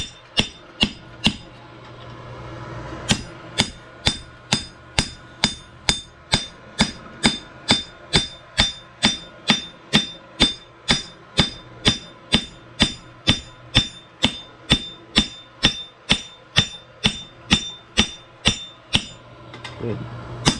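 A hammer strikes a horseshoe on an anvil during forging, sharp ringing blows in a steady, fast rhythm, close and loud, repeating dozens of times with only brief pauses.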